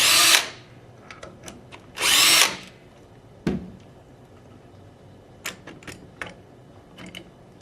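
Power tool removing the receiver bolts on a rifle fitted with a 98PS electronic trigger kit, giving two short loud whirring bursts, then clicks and light handling taps, close and with no voices.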